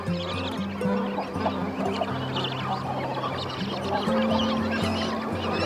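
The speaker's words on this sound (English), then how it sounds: "The noise level reaches a new height in the breeding ground." Young seabirds crowd a breeding ground in a loud, continuous din of overlapping honking and squawking calls, dense and unbroken throughout with no talk.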